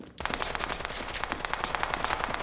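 Rapid handgun fire in a video game, a dense run of sharp close shots after a brief quiet start, continuing steadily to the end.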